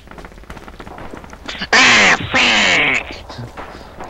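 A man imitates a duck with his voice, giving two loud, raspy nasal quacks close to the microphone, the first short and the second drawn out, amid faint background noise.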